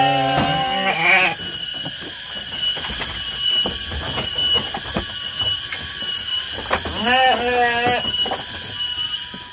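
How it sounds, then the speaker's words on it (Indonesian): Goats bleat in wavering cries, one burst near the start and another later, over a noisy, clattering background. "ini teh udah waktunya ngasih makan kambing Baraya ya"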